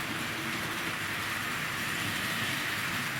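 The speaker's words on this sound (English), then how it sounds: "Crossing over now, pulling its long rake of wagons at a really nice speed" A Hornby-Dublo Class 20 model locomotive hauls a long rake of wagons around a Tri-ang Super 4 layout at a brisk pace, giving a steady, even rumble of wheels on track throughout.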